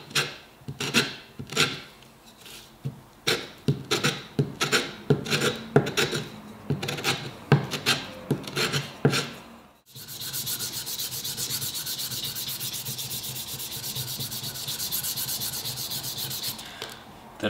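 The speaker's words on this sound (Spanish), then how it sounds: "Terminando de lijar con la lija del 400" Steady rhythmic rasping of 400-grit sandpaper rubbed back and forth on a wooden deba knife handle, close up, then a continuous faster scratchy sanding for the second half.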